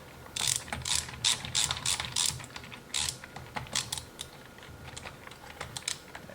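Ratchet driving screws while assembling a furniture mover dolly lifter set, a rapid run of close, bright clicking bursts in quick repeated strokes with short pauses between.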